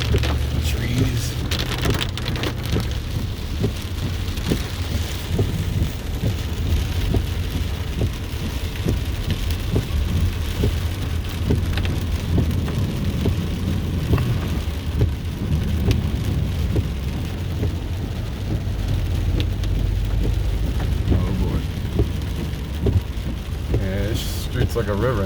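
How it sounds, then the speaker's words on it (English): Heavy rain pours steadily during Tropical Storm Isaias in Lower Merion, Pennsylvania, a dense, loud wash that continues throughout, with vehicles passing on a flooded road and a voice talking at times. "It's not even raining that hard right now, but it was."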